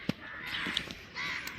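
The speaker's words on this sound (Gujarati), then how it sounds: "ઉપર પંખીડા ફરે છે મસ્ત મજાના." Crows caw several times overhead at a temple, with birds circling above. The calls are sharp and fairly distant over quiet background noise.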